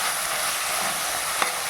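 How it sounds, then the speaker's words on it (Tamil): Two tomatoes sauté in a hot pan for veg salna, a steady close sizzle with one brief utensil tap near the end and no talking. "இதுவும் நல்லா குழைய வதங்கி வரட்டுங்க"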